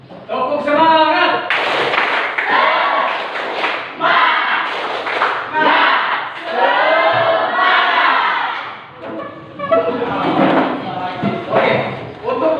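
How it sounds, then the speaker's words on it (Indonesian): Students in a classroom doing a rhythmic spirit clap: a group of young voices chants loudly in patterned bursts, punctuated by sharp collective claps and thumps over about twelve seconds. "Tepuk semangat."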